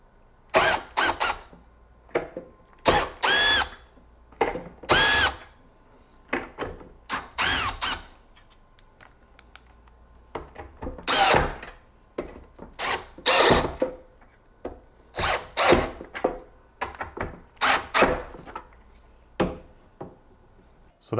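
A Milwaukee installation drill/driver working on a wooden coffee table whirs in repeated short bursts of high-pitched motor whine, close and loud, separated by brief pauses, with no talk.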